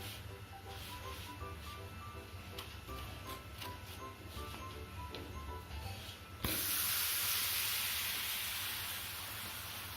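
Roti cooking in butter on a hot tawa bursts into a loud, steady sizzle partway through, hissing continuously to the end after a stretch of quieter background sound.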